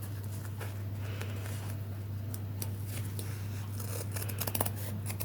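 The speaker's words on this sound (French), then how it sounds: "Je vais prendre les ciseaux." Scissors snipping in quick, irregular bursts, close by, over a steady low hum, with no one speaking.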